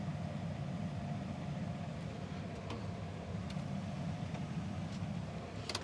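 A 2007 tractor heard from inside the cab, engine running steadily while pulling a grain cart during harvest, a constant droning rumble with no talking.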